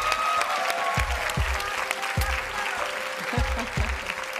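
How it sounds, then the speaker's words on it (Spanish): A television talent show audition audience applauds a ballet group in a dense, sustained burst, with repeated deep thumps recurring under the clapping. "Un aplauso para ustedes."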